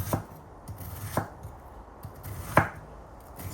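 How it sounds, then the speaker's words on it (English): A knife chops a red onion on a cutting board in a few separate, sharp strikes, with one louder cut near the end, heard up close with no voices. "So chopping up your red onion, similar to what you see here in size"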